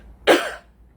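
A single sharp cough, close and clear, alone against a quiet room.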